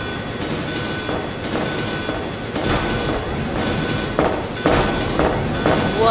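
A train in the Resident Evil video game rumbles steadily along the rails with rhythmic clatter and periodic metallic clanks, loud and continuous throughout.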